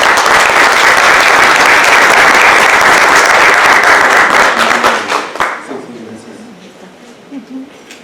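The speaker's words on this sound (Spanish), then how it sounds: "Recibámoslo, por favor, con un fuerte aplauso." Audience applause welcoming a speaker at a talk, dense loud clapping that holds steady for several seconds, then thins out and fades as a voice begins speaking.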